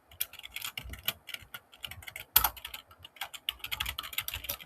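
Fingers typing code on a computer keyboard, a close, busy patter of clicky keystrokes in uneven bursts with one sharper clack midway, no voices.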